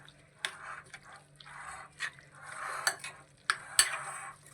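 Pizza burger filling stirred and mixed in a bowl, a series of soft scraping strokes punctuated by sharp utensil clinks against the dish, close and quiet with short pauses between strokes.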